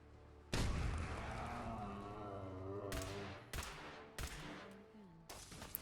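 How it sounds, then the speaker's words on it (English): Loud bursts of gunfire and booming blasts erupt in sharp, repeated hits over a low rumbling roar, with a few separate impacts toward the end, in a fight against the Mirelurk Queen in the video game Fallout 4. "It took a lot of gunfire and explosives"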